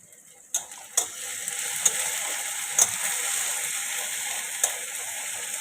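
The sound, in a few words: frying vegetables and spice paste for tangra fish curry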